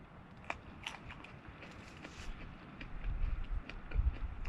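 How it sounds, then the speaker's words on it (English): Biting into and chewing a raw wild onion, with soft crunchy snaps close up and chewing sounds that grow louder and heavier toward the end. "I will eat one of these, just so you know."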